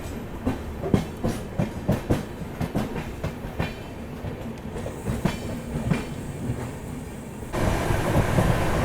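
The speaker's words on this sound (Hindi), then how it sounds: "अब ये आ रही है बाड़मेर हावड़ा एक्सप्रेस।" The Barmer Howrah Express rolls past on an Indian railway line, its wheels beating a regular clickety-clack over rail joints up close, then a sudden louder wind-buffeted rush as the cars sweep by.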